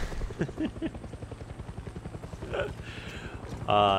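A helicopter in the Far Cry 6 video game gives off a steady, rhythmic rotor chop throughout, moderately loud under people talking, with a brief burst of other game noise near the end.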